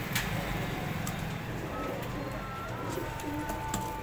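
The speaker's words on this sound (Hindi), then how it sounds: "ये है जी इंडियन बाजरा ही कबूतर" An Indian Bajrai pigeon coos softly in low, rolling calls over a steady background hiss, near and quiet, with no one talking.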